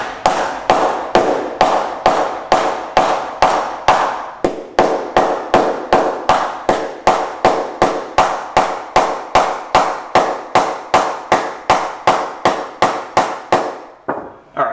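A hammer taps a bent steel panel down, delivering dozens of sharp, evenly spaced metallic blows in a steady rhythm, loud and close, with no talking.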